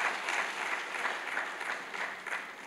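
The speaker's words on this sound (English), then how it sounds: "Please, can we just clap for her?" Audience applause at a YALI gathering in Nigeria, a steady wash of many hands clapping together, moderately loud and sustained throughout with no talk over it.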